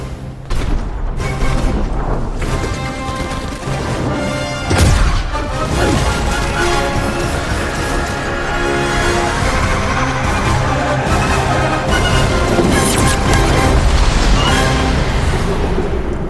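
A mech exploding in a video game, a dense, loud, sustained roar of blasts and crashing debris with a sharp impact partway through, continuing without letup.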